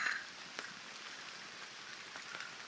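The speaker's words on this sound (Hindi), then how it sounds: "यार बारिश इतनी तेज़ आ रही है ना," Heavy rain falls on a garden, a steady, fairly quiet hiss with scattered drop patters and no voices.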